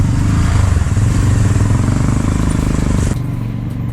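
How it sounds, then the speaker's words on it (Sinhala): A motorcycle ridden on the road gives a loud, steady engine drone with rattling clatter, close and continuous, then drops slightly in level near the end. "අපි යන්නේ බයික් එකේ"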